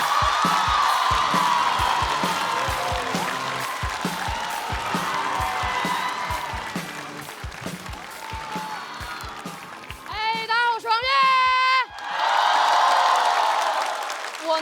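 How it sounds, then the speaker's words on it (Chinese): A studio audience at a stand-up comedy competition semifinal breaks into loud, sustained applause and whoops. The noise thins out, and a voice speaks briefly before the clapping and cheering surge back at full strength. "掌声有请王悦"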